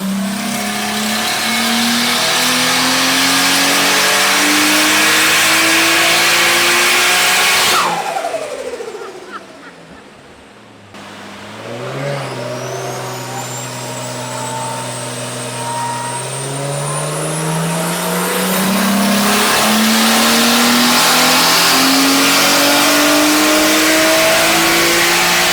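Nissan C34 Stagea with an RB25DET engine on a dyno run: loud engine climbing through the revs, a sharp drop-off and lift around the middle, then a second long pull rising steadily to a high-pitched wail.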